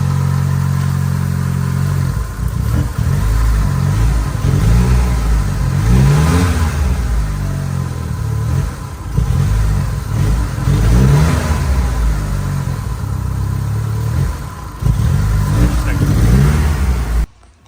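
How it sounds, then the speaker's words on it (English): A 2G DSM Mitsubishi Eclipse GSX engine with a rough idle, running loud and close with an uneven, loping idle and repeated revs rising and falling, talk heard faintly over the engine. "Well, still fighting the rough idle problem."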